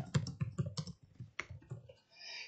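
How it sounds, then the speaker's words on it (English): Fingers tap a computer keyboard while text is typed into a word processor, a quick close burst of distinct clicks followed by a few slower, scattered keystrokes. "you could start typing um, anything that you want in here"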